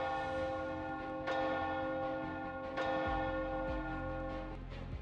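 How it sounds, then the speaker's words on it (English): In the video game Nikke, a loud alarm bell rings through a castle with sustained, sonorous metallic tones, struck again at intervals over a constant droning backdrop. "A loud alarm bell rings throughout the castle."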